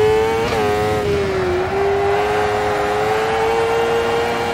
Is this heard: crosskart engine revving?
yes